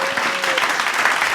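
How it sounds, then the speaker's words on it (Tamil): A studio audience claps in a short, lively burst of dense, even applause, with a brief tonal hum at the start. "ஒரு வாட்டி கைத்தட்டலாமே."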